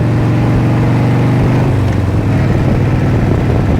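A 1987 Harley-Davidson Heritage FLST kickstart motorcycle engine runs loudly, steadily and continuously, a low throbbing rumble with no voices.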